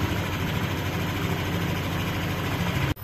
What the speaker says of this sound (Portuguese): Ó, o barulhinho ficou bem silencioso mesmo.